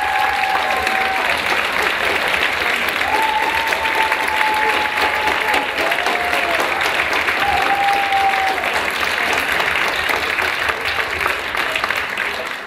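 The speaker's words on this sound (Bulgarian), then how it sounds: "Искам и вашите аплодисменти за един човек, който обикновено остава в сянка." Concert audience applauding the sound engineer at a diploma concert, a loud, sustained wall of clapping from a large crowd with a few whistles cutting through, tapering off at the end.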